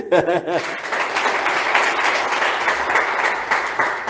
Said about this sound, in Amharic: እስቲ አጨብጭቡልኝ